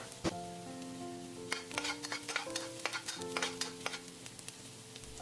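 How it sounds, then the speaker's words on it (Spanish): Minced garlic fries in hot oil in a wok, a low sizzle under a run of sharp metallic spatula clinks and scrapes, close and fairly quiet, with no voices. "Después de que el aceite esté caliente, agregue el ajo picado."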